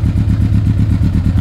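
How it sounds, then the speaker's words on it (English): Yamaha Thunderace YZF1000 1000cc motorcycle engine idling on full choke while warming up, a steady loud low rumble with a pulsing beat throughout. "Let me get it fired up, I'll warm it up."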